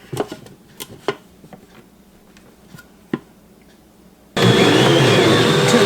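Sourdough pizza bread dough with Parmesan cheese is mixed by a loud electric mixer that starts abruptly after a few quiet seconds of faint clicks and taps, then runs as a steady, close whirring drone.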